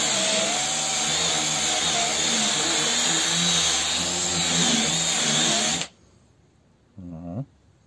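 A Parkside PAAP 12 B2 cordless polisher runs at high speed with a loud, steady whine for about six seconds, then cuts off abruptly, followed by a brief short burst of running.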